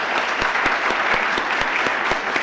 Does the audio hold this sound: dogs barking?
no